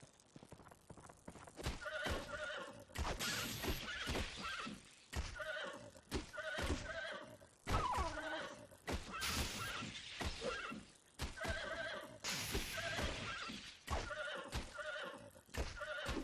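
Horses whinny and snort repeatedly in The Bard's Tale video game, with clopping hooves, thunks and a bell ringing through a busy stretch of game sound, no talk over it.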